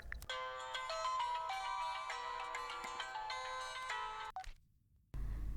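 A telephone rings with a steady, bright electronic ringtone for several seconds, clean and unbroken, then stops abruptly with no talk.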